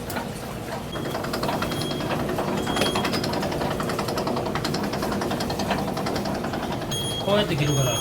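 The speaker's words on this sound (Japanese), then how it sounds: "もう機械じゃないと伸びないんですよ" Udon noodle-stretching machine at a noodle shop runs with a dense, continuous mechanical clatter and whir, loud and close, while a person talks over it.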